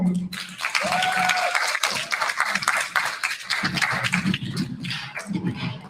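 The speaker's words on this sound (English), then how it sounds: "Give a round of applause again, ladies and gentlemen." Audience applause fills a signing ceremony hall, a dense steady patter of many hands clapping throughout, moderately close, with a faint tone and murmurs underneath.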